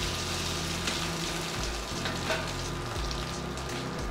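Crushed potatoes sizzle in hot oil with mustard seeds and curry leaves, a steady, dense frying hiss that stays close and even throughout, with no talking.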